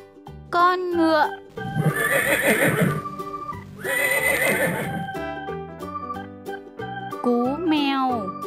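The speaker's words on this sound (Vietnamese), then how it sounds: "Con ngựa." A horse whinnies loudly in two long neighing bursts, set in a children's animal-learning piece over light musical chimes and spoken word labels.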